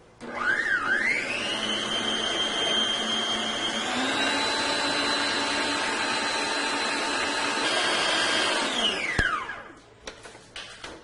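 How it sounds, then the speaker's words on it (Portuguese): An electric mixer running at top speed whips chilled whipped cream, a loud steady motor whine that shifts pitch partway through, then winds down and stops near the end. "Agora eu coloco ele aqui bem geladinho e coloco a batedeira no máximo para ele não esquentar, certo?"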